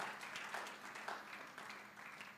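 Applause from a church congregation during a Sunday service, a steady wash of many hands clapping at moderate level for the whole stretch, without pauses.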